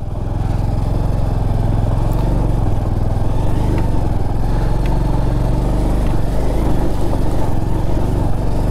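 A Bajaj Pulsar 150 street motorcycle is ridden on a road, its engine droning loud and steady at an even pace with rushing wind, close to the rider and without a break.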